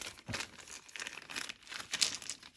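A plastic packet is handled close up, crinkling and rustling in irregular bursts with no voices.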